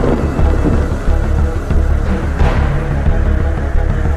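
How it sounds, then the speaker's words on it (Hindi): Strong storm wind roars steadily and loudly throughout, a dense rushing gust with rumbling low end and a brief surge midway, with no voices. "तेज आंधी शुरू हो गई।"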